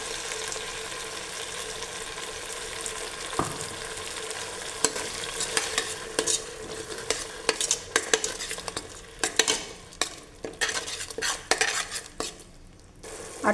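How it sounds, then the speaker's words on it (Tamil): A paste of curry leaf, ginger and amla fries in a pan for a herbal biryani, with a steady sizzle and a spoon scraping and clattering, the strokes growing quicker and louder. "அடுத்ததாக விழுது ஆட் பண்ணிடலாம்."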